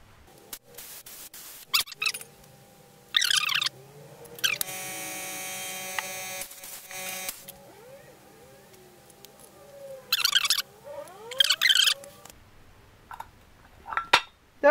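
A transmission piston is removed from a 5HP18 / A5S310Z drum using a spring compressor tool. Close metallic clicks, clanks and scraping squeaks come in irregular bursts with quiet gaps between them.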